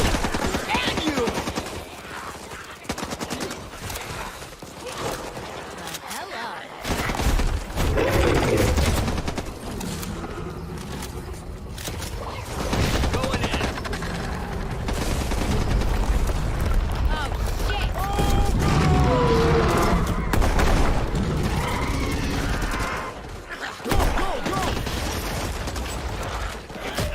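Rapid bursts of gunfire and machine-gun fire crackle through a video game trailer shown at an awards show, dense and loud, mixed with mechanical clatter, music and shouting voices.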